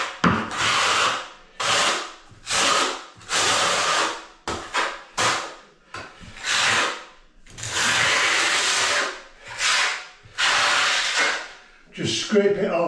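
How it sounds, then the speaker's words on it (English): A trowel scrapes tile adhesive onto a bathroom floor in repeated loud, gritty strokes of one to two seconds each, separated by short pauses, with a clink near the end. "Just scrape it on and it helps your adhesive to bed."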